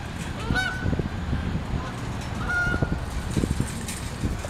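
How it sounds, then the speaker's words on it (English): Geese flying overhead honk in several loud, close calls spread across the stretch, against a steady outdoor background rumble. "all the geese are getting the f*** out of town"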